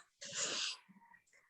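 A single sharp, breathy sneeze sounds close by, followed by a soft snort or sniff, quiet and alone.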